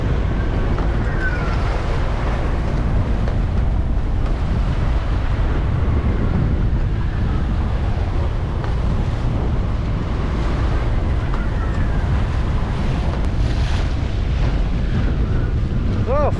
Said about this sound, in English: Well, suddenly it got really windy.